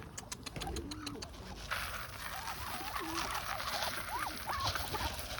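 Several pigeons cooing softly in low, repeated bursts against steady outdoor background noise, with a few ticking sounds early on.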